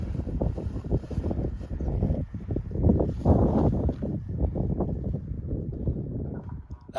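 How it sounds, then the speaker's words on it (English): Steady wind of about 15 mph buffets the microphone outdoors at a paragliding launch, a loud continuous low roar with gusty surges throughout and no talk. "Wind speed is about 15 miles an hour."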